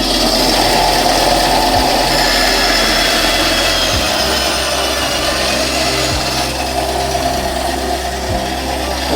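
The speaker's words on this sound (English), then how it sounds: "And then we turn on our bandsaw." A bandsaw runs continuously through a piece of wood for a carved spoon, a steady loud motor hum and blade rasp with faint intermittent thumps of the workpiece.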